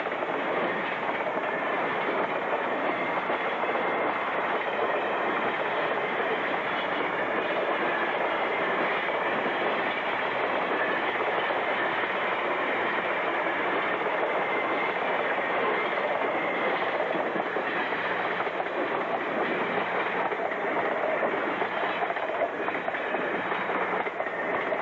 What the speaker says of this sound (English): southbound mixed train number 622 passes by with engines 1801 and 1520